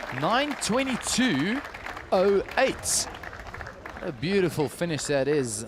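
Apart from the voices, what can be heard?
teammates applauding a swimmer's finish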